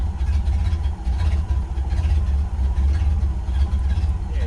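A Ford Model A garage-find engine runs and idles with a steady low chugging throb and some rougher revving texture, fairly close, with no talk heard.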